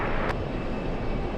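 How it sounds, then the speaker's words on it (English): A small Cape Air airplane takes off from an airport runway, a loud, steady roaring rumble heard from a distance throughout. "Little Cape Air is lining up"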